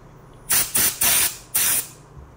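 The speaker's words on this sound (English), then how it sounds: "Using the air blower," Handheld air blower puffing dust out of the cooling fins of an HP Omen 15 laptop: four short, loud, close bursts of hissing air in quick succession, with quiet room tone between.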